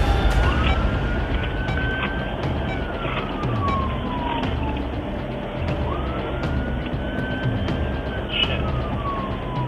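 A police car's siren wails loudly and steadily during a pursuit, its tone sweeping slowly up and down over constant road and engine rumble.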